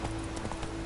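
Brief clip-clop of horse hooves in The Witcher 3, a few quick steps heard over a low ambient game backdrop.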